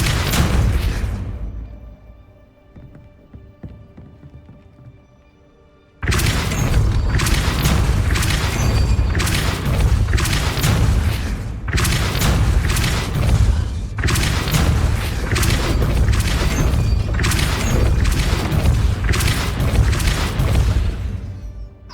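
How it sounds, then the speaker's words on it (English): A Depulso spell is cast in the Hogwarts Legacy video game, heard as a run of loud, booming blasts and thuds repeating in quick succession after a quieter, humming opening. "Depulso."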